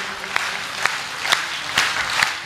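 An audience at a Hindi poetry recital by Dr. Hariom Panwar claps together in a regular, rhythmic beat, roughly twice a second, with the sound moderately near and no one speaking over it.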